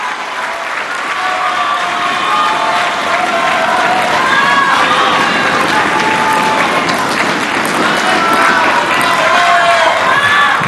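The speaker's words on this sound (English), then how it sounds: "The crowd yearning for a comeback from the host nation." Crowd cheering and applauding steadily throughout at a table tennis men's team semi-final between Vietnam and Malaysia at the 29th SEA Games, a loud, dense arena roar with shouting voices mixed in.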